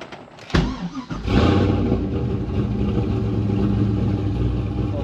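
A Pontiac GTO engine cranks and catches, then settles into a steady, loud idle that keeps running close by.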